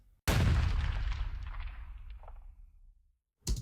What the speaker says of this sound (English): Lastly, we've got this rifle bang